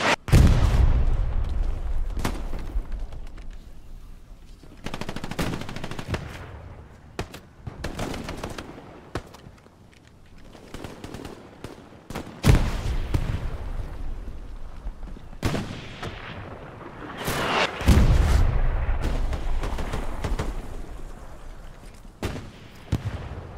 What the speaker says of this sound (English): Enemy bombing run coming in, take cover.